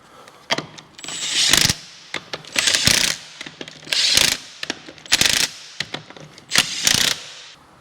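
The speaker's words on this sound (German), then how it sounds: "ich ziehe die jetzt auf einer ganz leichten Stufe an mit meinem kleinen Schlagschrauber" A small impact wrench on a very low setting tightens car wheel nuts in six short, close, rattling hammering bursts separated by brief pauses, with no speech.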